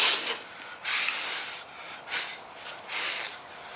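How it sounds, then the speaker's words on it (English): Hand sanding of body filler along the hood gap of a 1934 Ford coupe, four or five slow raspy strokes in a steady back-and-forth rhythm, close and fairly quiet with no talking. "So, you sand that down and you get it all smoothed out."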